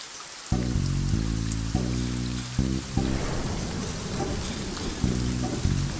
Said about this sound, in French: Toujours la pluie.